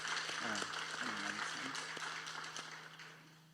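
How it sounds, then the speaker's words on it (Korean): A church congregation at a Sunday worship service claps in a soft, distant wash of applause that slowly fades, with a voice briefly heard near the start. "우리 주님께 감사의 박수 올려드리십시다."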